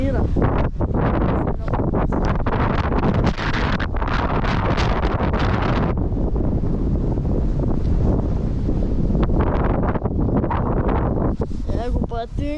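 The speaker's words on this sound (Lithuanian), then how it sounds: "vėjukas yra" Strong wind buffets a microphone outdoors on a hike in Malta, a loud constant roaring rumble that persists throughout, with a voice talking faintly beneath it.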